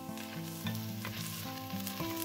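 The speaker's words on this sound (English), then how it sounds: "Next, I add onion ready cut in the pot." Chopped onion frying in a pot of olive and grapeseed oil, giving a steady, dense sizzle throughout, with a looping tonal background music bed running underneath.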